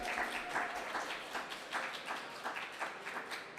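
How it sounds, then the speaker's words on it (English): Steady audience applause at a talk event in Houston, a dense crowd of clapping hands that runs evenly from start to finish at moderate volume, with no voices over it. "A round of applause would be appropriate right now."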